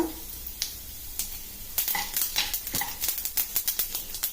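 Chana dal, urad dal, mustard seeds and cumin fry in oil in a pan, with scattered sizzling crackles, seed pops and a spoon scraping and stirring that grows busier toward the end.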